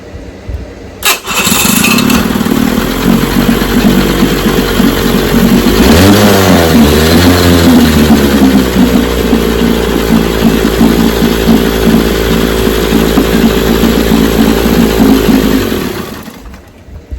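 An 18 HP Evinrude outboard motor with electric start cranks, catches and runs at a steady idle, with a brief rise and fall in revs, loud and close, then cuts off.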